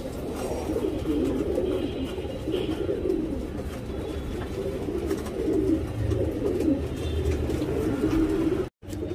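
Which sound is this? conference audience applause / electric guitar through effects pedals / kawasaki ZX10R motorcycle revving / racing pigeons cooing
racing pigeons cooing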